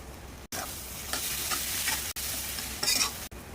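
Ground cumin, coriander and Kashmiri red chili being stirred in a hot pan for achari mutton, a spatula scraping in repeated strokes over a soft sizzle, close, with brief dropouts and no talk.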